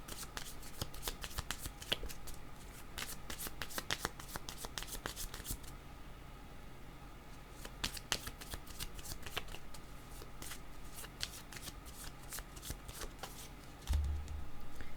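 A deck of oracle cards being shuffled during a card reading, with repeated crisp riffling and flicking bursts in close, quiet surroundings and no talk.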